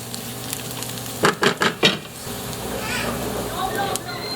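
Chicken pieces go into a hot frying pan with softened onions, setting off a steady sizzle; a few sharp clattering knocks of the pan sound near the start, then the frying hiss carries on evenly.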